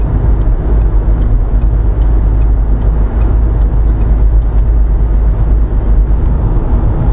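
Inside a Citroën Berlingo driving at around 90 km/h, a steady low road and engine drone fills the cabin with faint tyre hum, continuous and even, with no voices.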